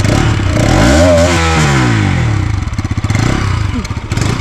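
A close, loud Bajaj Pulsar RS 200 BS6 motorcycle engine revs up and down with rising and falling pitch, then settles into a lumpy, pulsing idle.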